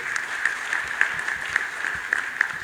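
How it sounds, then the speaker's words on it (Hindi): Audience applause for a minister at an MGM Medical College anniversary event in Indore: steady crowd clapping with scattered louder claps, continuous throughout. "राजेंद्र शुक्ला जी के लिए भी जरा तालियां बजाइए अच्छे"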